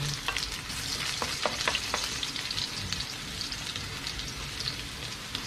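Garlic sautéing in a pan, a steady close sizzle with scattered crackles and a few stirring clicks, no talk.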